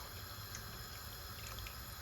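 Water poured into a cooking pot full of potatoes: a steady, faint rushing trickle that runs evenly for two seconds, with no talking.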